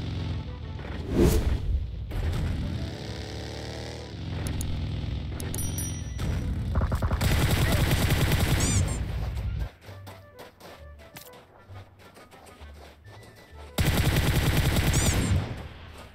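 Loud PUBG Mobile gunfire on the Miramar map, with repeated automatic bursts and single cracks arriving in clusters, close and punchy, separated by quieter stretches of movement and ambient noise.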